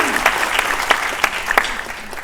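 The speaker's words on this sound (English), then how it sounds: "I give her a big applause" A short burst of audience applause during a talk, loud and close, with a few sharper individual claps standing out from the crowd.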